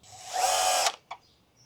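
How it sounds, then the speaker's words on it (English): A power drill whirs steadily for under a second while driving screws into wall anchors to mount a heavy-duty garage tool organizer, then stops abruptly, followed by a short click; close and loud, no talk. "With an optional drill and bit, screw in your anchors, secure all 3 plates down."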